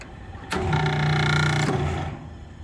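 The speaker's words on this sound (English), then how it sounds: "Motor's got bad bearings." An exhaust hood fan motor with bad bearings starts up with a sudden whir, then holds a harsh, buzzing mechanical whine for about a second and a half before fading, close and fairly loud.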